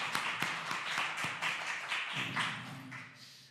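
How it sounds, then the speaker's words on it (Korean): Rhythmic clapping fills a church worship service, sharp hand claps repeating steadily with a congregation's voices and music softly underneath. "우리 찬양 받으신 하나님 앞에 영광의 박수 올려드리겠습니다"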